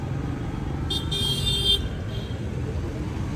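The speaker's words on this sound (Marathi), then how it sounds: "जाम ट्रॅफिक आहे." Busy road in a jam in Mulund, with a continuous low rumble of cars and motorcycles close by and one short horn toot near the middle.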